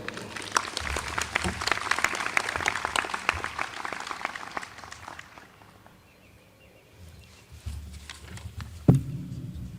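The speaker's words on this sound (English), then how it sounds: "Please join me in another round of applause for Mr. Jacob Horn." Audience at a 2022 university commencement ceremony claps in a sustained round of applause that tapers off to quiet, followed by a brief bump near the end.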